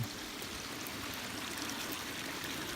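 A small homestead stream flows steadily in winter, a continuous close rushing and trickling of water at even volume with no voices.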